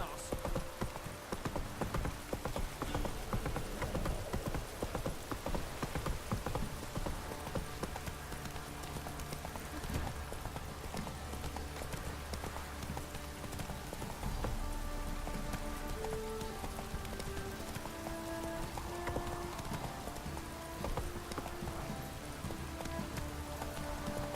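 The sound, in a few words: horse Roach galloping in The Witcher 3 video game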